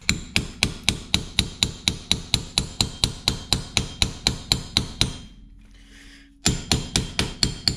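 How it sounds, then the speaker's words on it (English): Steady, evenly spaced hammer blows drive a steel chisel between the steering knuckle flange and the wheel bearing flange on a Jeep Cherokee, about two strikes per second, loud and close, pausing briefly before resuming. "I'll get a chisel, drive it down between the steering knuckle flange and the flange on the bearing here"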